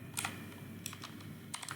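Keys on a computer keyboard are tapped in a few quick clusters while a website URL is typed. The taps are faint and close, with pauses between bursts.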